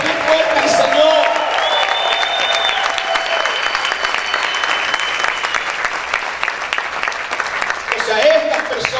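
A congregation applauds loudly with cheers and shouts, a dense, sustained wave of clapping and voices that carries on for several seconds.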